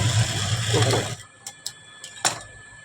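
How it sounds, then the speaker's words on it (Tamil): A sewing machine stitches a blouse with a steady whirring hum for about a second, then stops, leaving a few faint clicks and taps of handling. "அதுக்கப்புறம் இங்கே தைக்கணும்."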